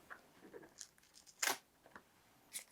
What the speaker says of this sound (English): Let me peel it off.